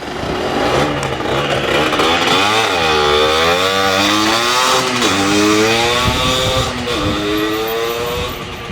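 A Zündapp ZXM 50cc two-stroke motorcycle runs loud and close, its buzzing engine rising and falling through several revs before settling back toward idle.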